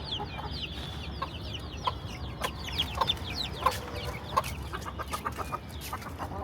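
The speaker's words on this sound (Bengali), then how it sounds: "এখানে হচ্ছে দুইটা মুরগি ডিম পারে" Egg-laying hens cluck close by in a rural yard, giving repeated short, choppy calls in irregular bursts over a quiet background with no talk.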